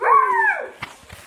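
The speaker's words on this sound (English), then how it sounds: "This is, this is my dog chasing me every time." A dog's drawn-out bark or yowl, close and loud for about half a second with a falling pitch, followed by quieter scuffling and faint noises.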